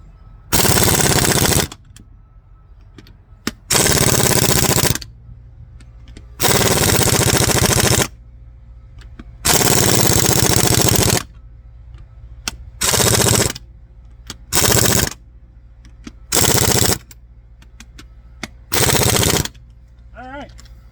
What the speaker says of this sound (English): I'm gonna start by tightening these up. They go to all the Ugga Duggas